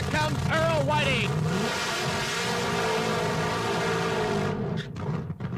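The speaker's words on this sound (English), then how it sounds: "And here we go with the first pair of Top Fuelers here at Firebird" A supercharged nitromethane Top Fuel dragster with about 4,000 horsepower at a drag strip, engine roaring and revving loudly, then cutting off, with an announcer's voice faintly underneath.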